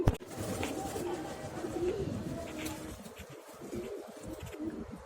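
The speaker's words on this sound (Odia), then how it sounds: "ଏବେ ପୁରେଇ ଦେବା ପାରା ଗୁରାଙ୍କୁ।" Pigeons coo softly in a loft or coop, low throaty calls repeating close by with faint rustling and wing movement around them.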